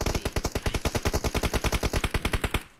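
Rapid automatic gunfire in a shooting video game team deathmatch, a fast even burst of about twenty shots, loud and close, stopping abruptly.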